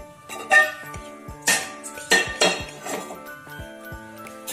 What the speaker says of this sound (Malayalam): ഇത് ഞാൻ ബേക്ക് ചെയ്യാൻ വെക്കുന്നത് ഒരു പഴയ ഫ്രൈ പാനിലാണ്.